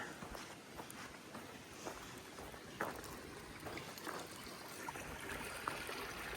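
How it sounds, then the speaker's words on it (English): A small waterfall spills beside a little outdoor pond, giving a steady, fairly faint rush of falling water with a few light splashes and no talking. "cool little waterfall, I bet."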